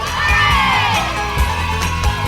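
A crowd of animal characters raises a loud, sustained cheer with shouts and whoops, rising and swelling throughout with no talking over it.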